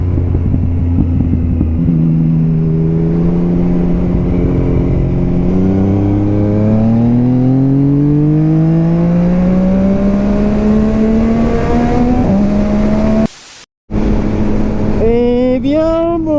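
A 2020 Yamaha MT-09 SP motorcycle engine revs loudly and close up, pitch climbing steadily through several long pulls, briefly cutting out, then rising again in quick blips.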